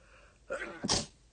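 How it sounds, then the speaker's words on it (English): A single quick sneeze, a short sharp burst after a faint intake of breath, in an otherwise quiet setting. "I just had to sneeze."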